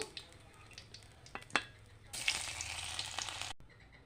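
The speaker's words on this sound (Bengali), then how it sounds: "এইভাবে আমি বাকি সবগুলি ভেজে নেব" Boiled egg pieces frying in oil for egg chilli, a soft sizzle with a few sharp utensil taps, then a louder, denser crackle of frying that cuts off abruptly near the end.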